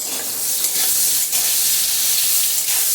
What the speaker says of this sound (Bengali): নেড়ে চেড়ে দিচ্ছি পটলটা